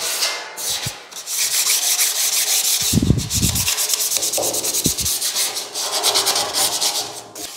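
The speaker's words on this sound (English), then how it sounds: "if your sandpaper starts getting dull, you guys gotta keep flipping it around" Coarse sandpaper rubbed by hand across a sheet metal panel during prep for 2K epoxy primer, a steady close scratchy rasp with short pauses and a few soft knocks.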